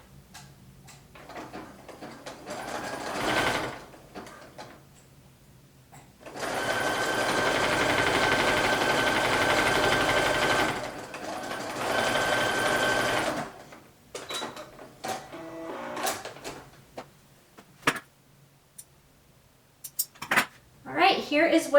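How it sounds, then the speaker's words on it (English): A sewing machine runs zigzag stitches to attach lace elastic onto knit fabric, with a rapid mechanical whir in two sustained runs, framed by short stop-start bursts and clicks, close and fairly loud. "I am still using the same zigzag stitch, and I am still going to stretch the lace until it is laying flat against the knit fabric."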